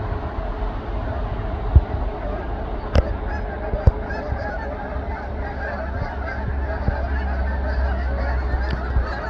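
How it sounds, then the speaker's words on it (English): Geese honk repeatedly in the distance over a steady low outdoor rumble, with a few sharper calls standing out. "There's all the geese you're hearing."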